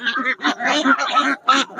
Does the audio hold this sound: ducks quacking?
yes